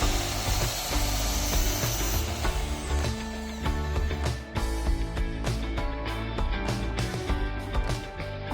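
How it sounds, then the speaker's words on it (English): Pallet wood being sawn into four pieces for a rustic frame, with steady rasping strokes running continuously under a background of music or hum, fairly close and even in loudness. "We are first going to cut 4 pieces of wood to form a very rustic frame."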